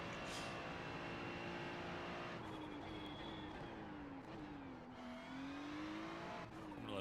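Ferrari 296 GT3 race cars in a sim racing game at VIR, engines droning steadily throughout with rising and falling pitch as they accelerate and pass, plus a faint high whine.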